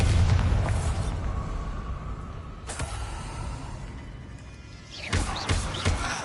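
Bombarda blasting spell in a Harry Potter video game, giving deep booming explosions, one loud at the start, a sharp crack near three seconds and another heavy burst toward the end, with no talk.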